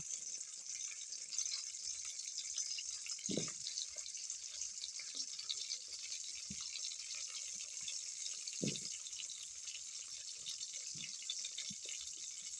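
Potatoes frying in hot oil in a wok make a faint, steady sizzling hiss, broken by a couple of soft clatters as the pieces are moved.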